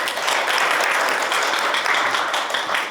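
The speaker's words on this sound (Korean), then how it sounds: "황지인 교수님을 큰 박수로 맞이해 주시기 바랍니다." An audience at a National Assembly forum on patient safety education for nursing students claps, a dense, even patter of many hands that stays steady and fairly loud from start to finish.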